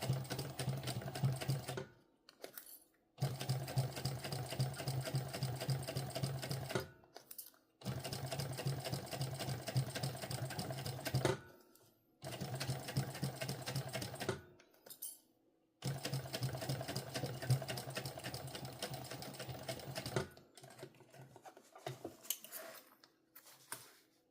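Sewing machine stitching a sling pouch while running low on bobbin thread, a fast close mechanical chatter that runs in several long bursts with short pauses between them.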